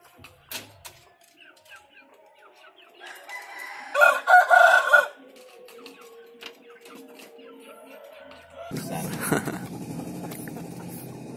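A rooster crows loudly in a chicken coop, a long harsh call standing out near the middle, with clucking hens and other fowl scattered around it and a burst of rustling noise later.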